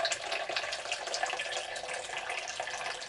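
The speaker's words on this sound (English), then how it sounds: "take some water from the bottom of the Robo Brew," Water runs steadily from the bottom tap of a Robo Brew brewing system during water additions for a homebrew, a continuous close splashing flow with no talk over it.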